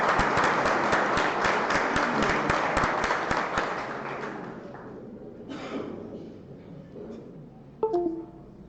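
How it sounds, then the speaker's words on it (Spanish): An audience at an agronomy seminar on silvopastoral systems applauds a speaker, a dense burst of clapping that fades out over several seconds, followed by a few scattered sounds in a quiet room. "Pedimos un aplauso para eso,"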